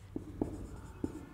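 Chalk or marker strokes on a classroom board as script names are written, several short scratchy taps spaced irregularly, close and fairly quiet, with no talking.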